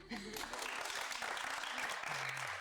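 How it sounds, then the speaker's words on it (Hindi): Audience applause on an entertainment talk show, continuous and full, with a voice briefly heard beneath it. "तो मेरे लिए तालियां"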